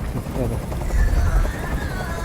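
A helicopter in the video game Detroit: Become Human, a low, thudding rotor rumble under a person talking.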